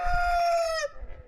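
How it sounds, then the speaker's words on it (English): A backyard rooster crows once, close and loud, a single drawn-out call that breaks off sharply near the end. "Crow for me, Rudy."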